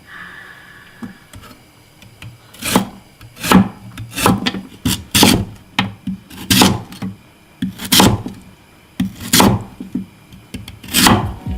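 Rhythmic rasping scrapes, about a dozen strokes at an even pace, each a short gritty rub of a blade along a thin burdock root, close and loud.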